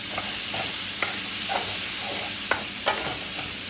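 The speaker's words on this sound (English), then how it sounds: "I'm going to add that other couple tablespoons of butter back in." Mushrooms fry in butter in a skillet for a French chicken casserole, with a constant close sizzle broken by several sharp spoon scrapes and stirring knocks.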